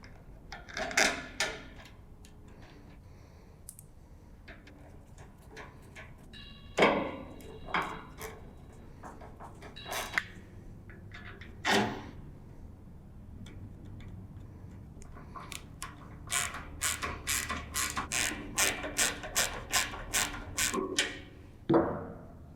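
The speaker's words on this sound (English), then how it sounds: "We're just going to take these smaller bolts here and line up with our holes and put our nuts on and do that for all 4" Bolts and nuts being fitted onto parts of a John Deere 215,000 BTU space heater: quiet scattered metallic clicks, taps and clinks, with a quick run of rapid ticking near the end.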